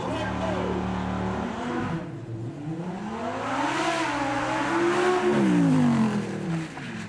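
At a Beaulieu supercar weekend demo straight, a car launches with all four wheels spinning: the engine revs, drops, then surges in a rising, loud acceleration with tire noise as it pulls away, while voices murmur in the background.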